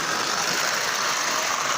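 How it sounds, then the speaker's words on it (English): A model engine motor fitted with a smoke unit runs steadily, producing a continuous, fairly loud, even whirring hum with no pauses and no talk. "It seems to be running well. Now, this is a smoker, and it is smoking, not heavily."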